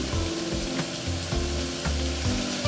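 Chopped tomatoes fry in oil in a pan with peas and eggplant for Karnataka-style vangi bath, a steady sizzle broken by regular scraping strokes of stirring, close and alone.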